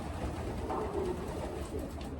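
Breeding pigeons in a hen section of a loft give a short burst of soft, throaty cooing, close but quiet, over a low rumbling background.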